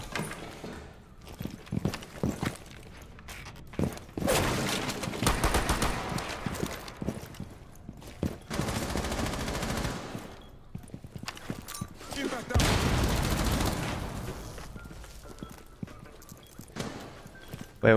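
Video game gunfire in a tactical shooter match, bursts of shots crackling in clusters over a noisy mix of footsteps and game effects, with players talking throughout.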